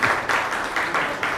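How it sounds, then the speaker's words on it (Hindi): Audience at a women's day event claps in a rhythmic, unison beat, about six regular pulses in under two seconds, fairly close and moderately loud. "तालियां बजाने की चीज़ तो बजाओ"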